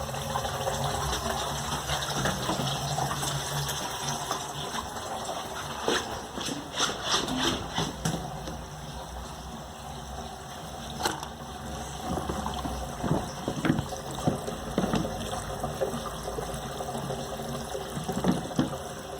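Tap water pouring steadily into a newly fitted patio sink drain, a continuous splashing trickle with some irregular gurgles, moderately close and with no talk over it.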